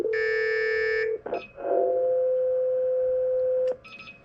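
A PA page on an IP classroom clock opens with a loud steady electronic alert tone lasting about a second, followed by a long sustained tone and brief beeps near the end.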